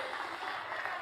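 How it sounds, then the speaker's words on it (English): Applause from a crowd at a Nevada political rally, cheering first-time voters and young leaders, a steady dense wash of clapping throughout the short moment. "Let's applaud our first-time voters and our young leaders"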